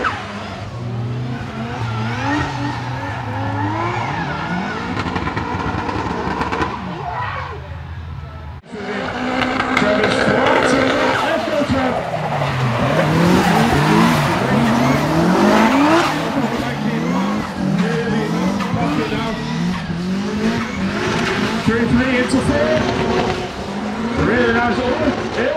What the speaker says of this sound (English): Transition from that big handbrake drag from both cars.